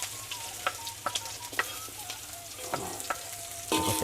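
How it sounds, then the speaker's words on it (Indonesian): Spice paste of shallots and garlic frying in hot oil, a steady sizzle with scattered crackles and pops, close and continuous, occasionally stirred. "Sekarang kita goreng dulu bumbunya."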